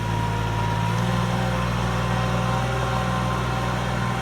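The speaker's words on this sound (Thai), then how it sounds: "นี่นะรถไถย้ำนา" A Kubota L3608 walking tractor fitted with a harrow churns through a wet rice paddy, its engine giving a constant loud droning hum with no break across the stretch.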